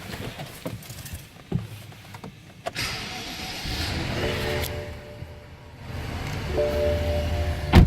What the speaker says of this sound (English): Let's go ahead and fire it up.